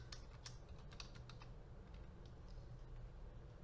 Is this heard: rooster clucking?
no